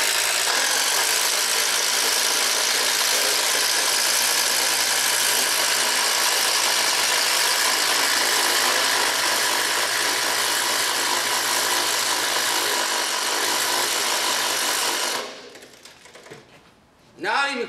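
A DeWALT DCF787 and a Makita XDT12Z cordless impact driver run side by side in a head-to-head test, a loud continuous dense hammering rattle for about fifteen seconds before cutting off abruptly.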